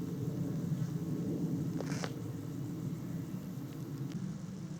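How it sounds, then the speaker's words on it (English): Distant jet aircraft rumble passes overhead on a rural walk between wheat fields, a low steady drone holding throughout with a few faint clicks. "as you can hear, nothing but jet noise at the moment"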